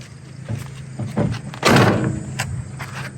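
A car door on a 1974 Plymouth Duster swings shut with a solid, close thunk partway through, preceded by a few lighter clicks and handling noises.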